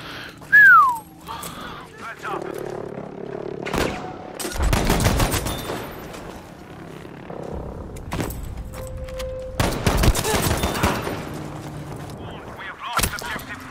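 Battlefield 5 gunfire barrage on the Aerodrome map, loud bursts of rifle and machine-gun fire and booming impacts arriving in clusters, with a whistling shell near the start and scattered shots between.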